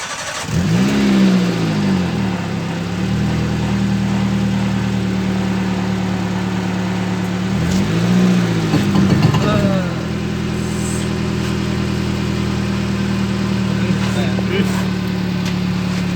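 A car engine idles and revs twice while the car reverses onto a homemade jack at a school science fair, a loud nearby rising roar falling back to a steady idle, with voices faintly beneath.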